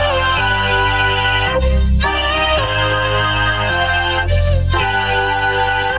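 A song rendered as vocoded audio in FL Studio: a synthetic, pitched vocal-like tone over a heavy shifting bass line, loud and continuous, with chord changes every second or so and no talking.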